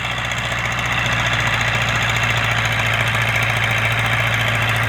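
A YuMZ tractor engine pulling a PLN-3-35 plough uphill, a loud, steady close diesel drone with a low knocking throb running unbroken throughout.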